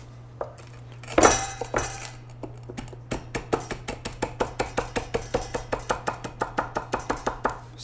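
Repeated pounding of cumin seeds on a board with the bottom of a pan while cooking tikka-spiced confit chicken, a steady run of about twenty sharp knocks after a few scattered hits, close and fairly loud with no talking.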